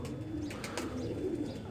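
Soft, steady cooing from Kasuri (Qasori) pigeons, a low throaty murmur that repeats close by for under two seconds with no talking.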